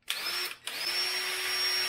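A Ryobi 1/2 inch brushed cordless impact wrench whirs up to a high steady motor whine, stops briefly, then spins up again and runs continuously nearby.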